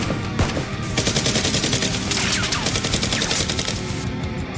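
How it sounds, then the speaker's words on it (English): Nerf guns fire during a staged fight as rapid bursts of sharp, evenly spaced shots, fast like automatic fire, loud and close, with no talking over them. "The two SWAT members signal to each other and step out to shoot the guard."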